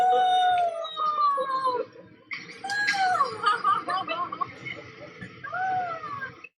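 A man imitates a dog's howl with several wavering, rising and falling cries, close and fairly loud, broken by a short pause, with a voice talking faintly underneath.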